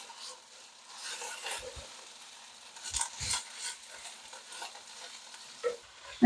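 Chopped collard greens being mixed into tomato paste in a pot, soft wet scraping and light sizzle with a few distinct spoon knocks against the pot, quiet and close with no talk.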